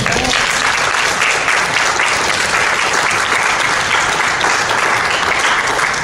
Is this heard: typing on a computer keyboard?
no